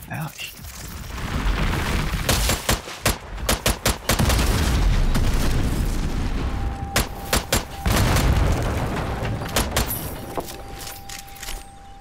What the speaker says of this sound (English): The exploding barrel doesn't seem to bother them.